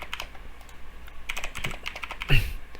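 Keys clacking on a computer keyboard in short clusters of fast clicks, close and soft, ending with a slightly louder thump over a low background hum.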